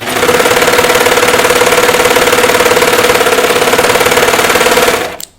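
A sewing machine runs steadily while stitching knit T-shirt fabric, a fast, even mechanical whir with a constant hum, close and loud, lasting about five seconds before stopping abruptly.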